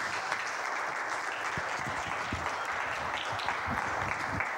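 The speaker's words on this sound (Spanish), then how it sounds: "Un aplauso para ellos, por favor." Sustained applause from a small audience at a flute master class in Colombia, for the students, with scattered louder individual claps over a continuous wash of clapping.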